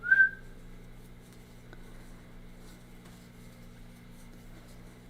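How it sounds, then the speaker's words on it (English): A single short, high whistle sounds at the start, then fades into a quiet, steady background hum. "That was loud. That was a whistle."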